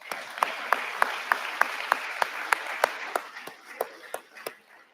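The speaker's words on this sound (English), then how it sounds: "So I would clap just for that." Audience applause at a State of the City 2024 address, a steady wash of many hands with a run of sharp, evenly spaced single claps standing out on top before it thins and fades near the end.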